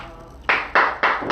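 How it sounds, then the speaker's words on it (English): Three loud, close claps or slaps land about a quarter second apart after a brief quiet lead-in, each a broad, sharp burst that rings briefly. "Now you can clap."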